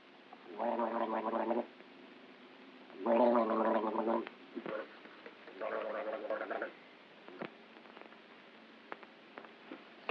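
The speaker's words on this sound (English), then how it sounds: "What are you doing? Gargling." A man gargles in three bursts of wet, bubbling throat noise, close and clear, separated by short pauses and a few small clicks, in a thin, old-recording tone.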